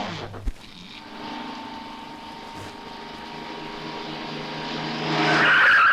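A vehicle slows with a long, steady tire screech that grows louder near the end, following a brief thump at the start.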